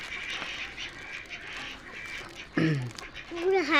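A duck gives a few nasal quacks at close range, with a louder pair near the end, while people talk nearby.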